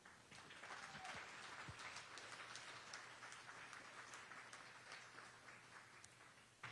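Crowd at a Newton school committee public hearing breaks into sustained applause, a dense, steady clatter of many hands with a few sharper claps standing out, continuing evenly throughout at a distance.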